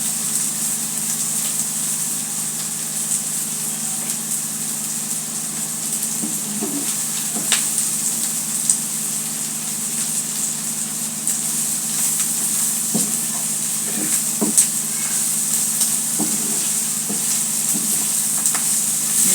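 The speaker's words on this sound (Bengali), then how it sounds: "মোটামুটি আমার রসুন ভাজা, পেঁয়াজ কুচি সবগুলো একদম মচমচে ভাজা হয়ে গেছে" Garlic and chopped onion frying until crisp in a pan for a kakrol bhorta with icha shutki, giving a steady, dense sizzle with faint crackles throughout and no talking.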